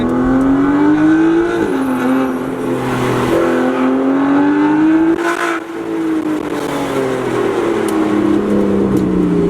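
An Aston Martin Vanquish S Ultimate pulls hard through the gears, its engine note climbing loudly and dropping at each of several quick upshifts, heard close from inside the car.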